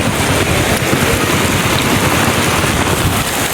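Heavy rain pours down during a cloudburst over a village, a dense, loud and unbroken hiss of water hitting surfaces, steady throughout with no voices.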